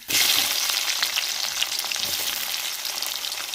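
Steady, close sizzling of onions frying in hot oil, a bright crackling hiss that continues throughout with faint stirring pops.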